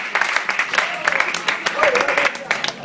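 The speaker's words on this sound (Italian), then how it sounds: "facciamo un forte applauso a questa splendida coppia" Wedding guests in a restaurant give the couple a loud burst of applause, dense clapping filling the room with faint crowd murmur and voices underneath.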